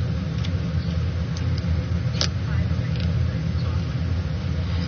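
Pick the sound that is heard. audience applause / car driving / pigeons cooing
car driving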